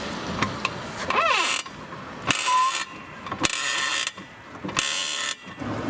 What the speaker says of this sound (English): Now we'll use a hydraulic jack to lift the back of the vehicle.